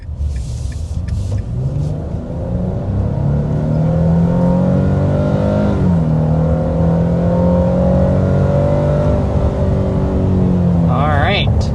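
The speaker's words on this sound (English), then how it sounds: "let's go ahead and start with a hard acceleration." 2026 Nissan Frontier V6 truck under hard acceleration, the engine note rising through gears with a clear dip at a shift and a strong steady climb, heard from inside the cabin with a voice talking over it.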